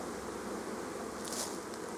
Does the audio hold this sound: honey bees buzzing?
yes